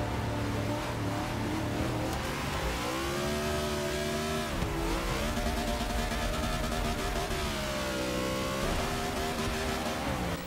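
NASCAR race car engine in Forza Motorsport 6, droning loudly and steadily through the whole stretch with pitch rising and falling as it shifts and accelerates, tires occasionally squealing, no talk over it.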